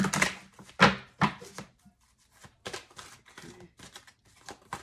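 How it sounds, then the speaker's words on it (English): A numerology card deck being shuffled, with irregular papery riffles and soft taps in short bursts, close and fairly quiet, with no talking. "I do want to take a different shuffle on this deck."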